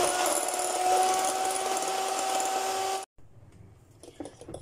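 An electric hand mixer beats banana sponge cake batter until it turns white and thick, a steady loud motor whine with a constant hum that cuts off abruptly, followed by quieter clatter and faint handling noises.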